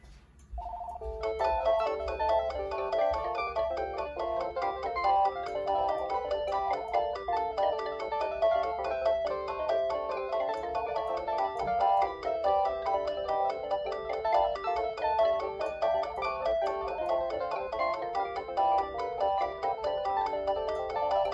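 An AT&T EL52303 DECT 6.0 cordless phone with digital answering system rings with a continuous electronic ringtone melody that plays steadily at moderate volume for about twenty seconds, alone without talk.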